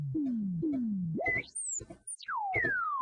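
Self-oscillating filter on a Moog Rogue analog synthesizer making space noises: repeated falling pitch slides, then a swoop up to a high piercing whistle that drops back down, ending in another long downward glide, all alone.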